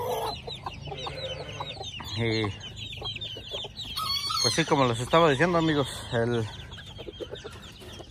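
Hens cluck and a rooster calls in a farmyard coop, several bird calls rising in bursts around the middle and end, close and fairly loud, while someone talks over them.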